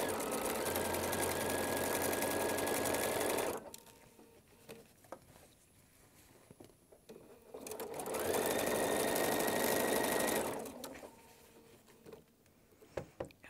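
A sewing machine stitching elastic into a fabric bowl cover runs in two short bursts of rapid, steady mechanical whirring, separated by a few seconds of near-quiet pause, loud and close.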